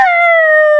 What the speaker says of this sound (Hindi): पर ये कुत्ते भौंक क्यों रही है?